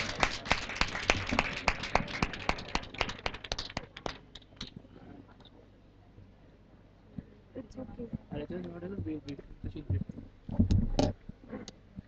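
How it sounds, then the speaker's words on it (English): A job fair audience claps briefly and crisply for presenters coming on stage; the applause fades after a few seconds and a person begins speaking close by. "Please give a huge round of applause for ma'am and sir."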